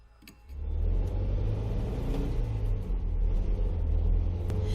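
Car engine rumbling steadily while driving in the Death Mark horror game, a low continuous drone that swells up after a quiet opening and then holds loud and even throughout.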